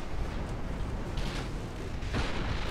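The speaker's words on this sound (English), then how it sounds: "High explosive shells just ripping them apart." Naval high explosive shells strike ships in Ultimate Admiral Dreadnoughts, a dense rumbling wash of distant booms with a couple of sharper impact bursts over a steady low roar.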